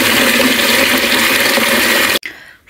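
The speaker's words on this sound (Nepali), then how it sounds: "लाइक यस्तो स्पिडमा आउँछ पानी" Strong water gushes loudly and steadily from a tap for about two seconds, then cuts off abruptly, leaving quieter trickling and dripping in a village setting.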